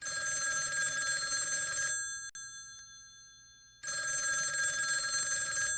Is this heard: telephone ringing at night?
yes